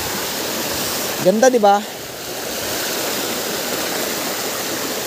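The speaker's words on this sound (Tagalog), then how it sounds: "Ito na yung pinagmamalaki ko sa inyo na falls na makikita dito sa amin." A waterfall pours steadily into a forest stream, a dense continuous rushing wash filling the scene, while a voice briefly speaks over it.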